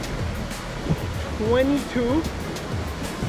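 A waterfall near Pua'a State Park on Maui's Road to Hana sends a steady rushing wash of falling water, with a person talking and exclaiming briefly over it.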